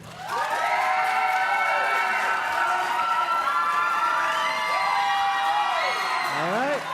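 Convention panel audience cheering and whooping for a Star Wars character vote, sustained crowd shouts with rising and falling cries rather than steady clapping.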